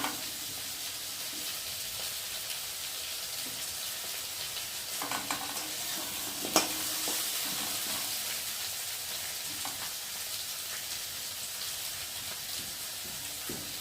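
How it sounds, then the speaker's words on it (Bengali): Steady sizzling of potatoes frying in a pan, a continuous hiss with a few brief clinks and stirring sounds partway through. "আলুটা একটু ভালো করে ভেজে নিই"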